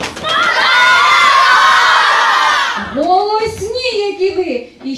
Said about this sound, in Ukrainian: Хто крикне голосніше з Новим роком?